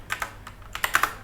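Quick run of computer keyboard keystrokes typing Linux commands, about eight crisp close clicks in uneven rhythm within a second, no voices.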